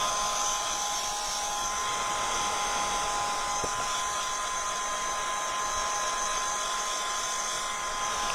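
A hair dryer blows continuously at steady volume, drying paint medium on an MDF craft piece, with a constant high whine and airy rush.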